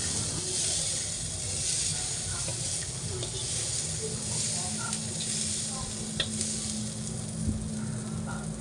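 Chickpeas fry in a pan with a soft, steady sizzle and faint stirring scrapes, fairly quiet, with a voice speaking over it.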